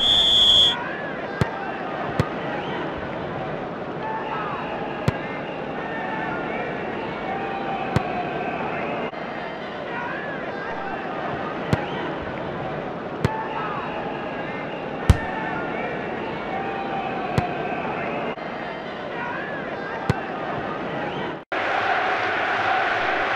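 A stadium crowd roars steadily after a goal in the PS1 soccer game Winning Eleven 2002, a continuous loud cheer broken by occasional sharp clicks and ending in an abrupt cut.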